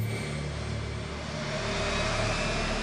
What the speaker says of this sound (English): the President's command post for waging nuclear war taxied to the